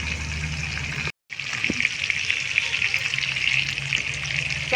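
Potato pieces seasoned with salt and turmeric fry in hot oil, giving a steady loud sizzle that drops out for a moment and then returns, with a little clatter of stirring.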